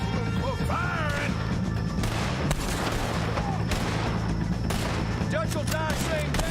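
Gunfire in the video game Red Dead Redemption 2, a dense barrage of shots and impacts crashing throughout a loud battle scene, with game voices and music underneath.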